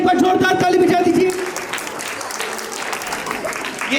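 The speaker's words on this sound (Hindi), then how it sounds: "एक बार जोरदार ताली बजा दीजिए." A school audience at Saraswati Public School claps loudly in a dense burst, with a voice speaking over the opening moments before the applause continues alone at a slightly lower level.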